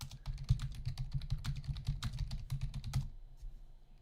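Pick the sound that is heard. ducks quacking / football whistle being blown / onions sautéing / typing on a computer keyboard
typing on a computer keyboard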